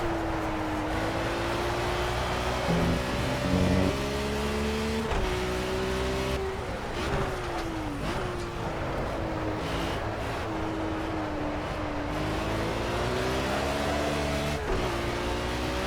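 A BMW M1 Procar race car engine in Project CARS career mode roars loudly and continuously, its pitch climbing and dropping through repeated upshifts and downshifts as it brakes and accelerates around the track. No voices are heard.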